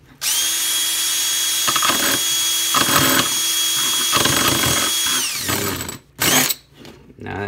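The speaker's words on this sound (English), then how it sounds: "Put my little wood rasp tool" A power drill spins a small wood rasp bit on a DIY rod holder, whining loudly and steadily for several seconds with bursts of grinding against the wood, then stopping and briefly revving again.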